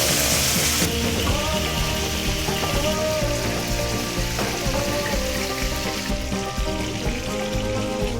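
Butter sizzles in a pan with a Costco beef steak, a dense, continuous crackling hiss that stays loud and even from start to finish.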